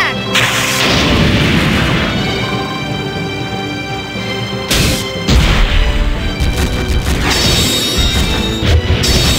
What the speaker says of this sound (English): It's an ultimate finishing attack!